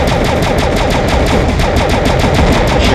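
Rapid, continuous machine-gun fire from the video game DeathDrome, loud and up close, a dense unbroken stream of shots with no pauses or voices.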